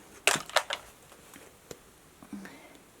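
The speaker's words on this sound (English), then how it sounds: "So this is the glass beads in these stockings that I get" Fine glass beads shift and rustle inside a stocking as it is handled for filling a reborn baby doll torso, in a few close crunchy bursts and lighter patters, with quiet pauses between.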